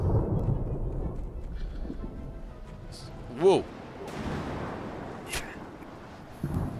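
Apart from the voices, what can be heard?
thunder during a storm in the video game Smalland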